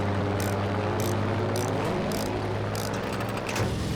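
Bf109 fighter plane propeller engine droning steadily in Battlefield V, a loud continuous airscrew hum with periodic bursts of higher noise layered over it.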